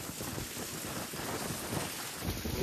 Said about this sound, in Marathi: वाराचा आवाज येतो.